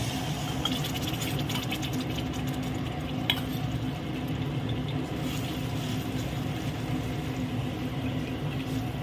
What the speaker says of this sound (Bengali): এবার এই মশলাটা আমি যে ফোড়ন দিয়েছি তেলের মধ্যে, তার মধ্যে আস্তে করে দিয়ে নাড়তে থাকবো